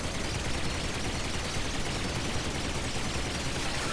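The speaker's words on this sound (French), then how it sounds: "On va faire le ménage avec la tourelle." A stolen turret in Ratchet & Clank fires without letup, a dense continuous rattle of rapid game gunfire that fills the whole short stretch at an even, loud level.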